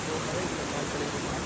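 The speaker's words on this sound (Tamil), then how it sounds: "இந்த ஆறை பார்த்தீங்களா?" A river flowing at Sri Pada mountain in Sri Lanka, a continuous dense hiss of rushing water, steady and close for the whole moment, with no talk over it.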